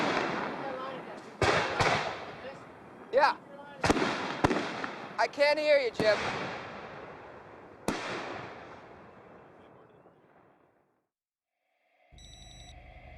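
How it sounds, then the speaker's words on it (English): Fireworks from a film set going off in a series of sharp bangs and crackling bursts spread over several seconds, fairly loud with decaying tails, while a brief voice speaks between them. "the real fireworks going off"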